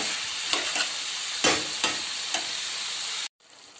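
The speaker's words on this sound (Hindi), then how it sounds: "साथ ही इसमें आलू शामिल कर दूंगी और इसको हल्का सा भून लूंगी।" Chicken, masala and potatoes frying lightly for biryani, a steady close sizzle with several scraping stirs of the spoon through the pan, then a sudden brief drop in sound.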